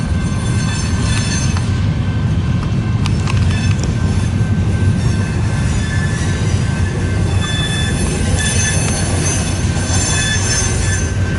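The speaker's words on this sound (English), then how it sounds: "this is Union Pacific pushing their train into the" A Union Pacific train pushes railcars back into the yard, wheels squealing loudly against the rails over a constant heavy rolling rumble, close and continuous without letup.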